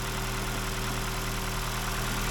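A car engine idles steadily just after being repaired, with exhaust smoke burning off; the low, even running continues close by and alone for the whole stretch with no talk over it.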